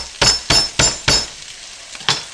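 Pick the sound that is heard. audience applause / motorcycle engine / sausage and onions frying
sausage and onions frying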